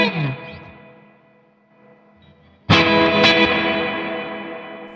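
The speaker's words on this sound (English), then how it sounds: "so that's spring" A guitar played through the spring reverb setting of a Vox StompLab modeling processor: a distorted chord rings out and decays with a splashy, wet reverb tail, then a second loud strummed chord hits and sustains.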